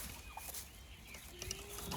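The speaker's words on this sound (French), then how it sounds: "Donc voilà les petites poules pondeuses qu'on m'a données." Small laying hens give soft clucks and short calls over a steady low background hum, close by and fairly quiet, with no voices.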